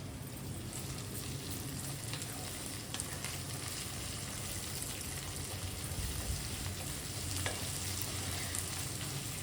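Sliced brinjal sizzling in hot oil in a pan for a curry, a steady crackling fry with faint stirring scrapes and no voices.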